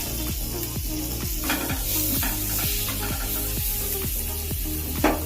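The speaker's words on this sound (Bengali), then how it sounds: "পেঁয়াজগুলো ভাজার জন্য কিছুক্ষণ অপেক্ষা করতে হবে।" Chopped onions sizzle and fry in a pan on a home stove, with a spoon stirring in steady, rhythmic scrapes. The frying is close and continuous, with no talk.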